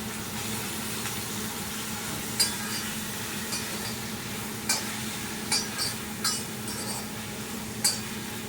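Tomato, onion and potato fry softly in a pan while being stirred, a steady low sizzle with several sharp utensil clinks against the metal at irregular intervals.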